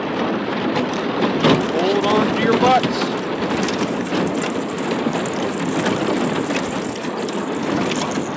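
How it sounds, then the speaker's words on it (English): Steady freezing rain patters and hisses on surfaces close by, a dense constant wash of sound with faint wind noise and some louder drips, in winter on a lake. "Some more freezing rain."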